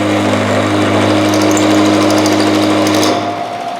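A milling machine cuts a slot into metal with a steady, loud machining whine and low motor hum, held continuously before easing slightly at the end.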